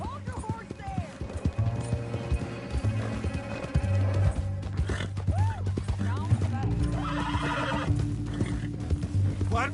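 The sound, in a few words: horse neighing in video game Red Dead Redemption 2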